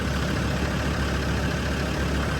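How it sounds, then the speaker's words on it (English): A Land Rover Defender TD5 diesel engine running at a steady idle after its fuel leak repair, a loud, constant, close-up rumble with no pauses. "All right, engine running."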